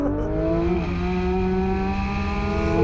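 A Porsche 911 GT3 pulls away hard from a standstill, its engine note climbing steadily through the revs in a loud, close, continuous roar inside the car, with no voices over it.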